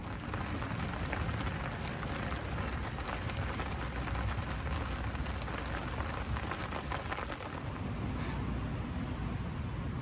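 Torrential rain pours steadily at a fishing lake, a dense, loud and unbroken hiss of drops pattering on surfaces for the whole stretch, with no voices.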